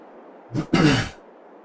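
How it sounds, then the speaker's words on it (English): A single short, throaty cough close to the microphone, a quick catch followed by a rougher burst, in an otherwise quiet room. "I can feel a big cough coming on"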